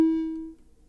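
A dry Serum synth lead built from a square wave with a clicky noise layer strikes one single note, a sharp click at the onset and a buzzy pitched tone that decays over half a second, heard alone.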